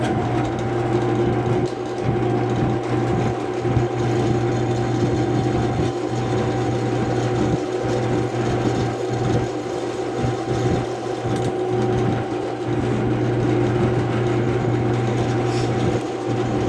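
A steady, high-pitched motor whine runs continuously, with a faint rapid chatter underneath, as a power drill with a sharp bit and no lubricant grinds through titanium at close range.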